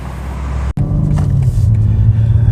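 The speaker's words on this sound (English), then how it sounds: "let's see how the G82 BMW M4 Competition drives on the road" A BMW M4 Competition G82 sports car driving on a road, heard as a loud steady low engine rumble from inside the cabin, with a brief dropout near the start and a slight rise in engine tone later.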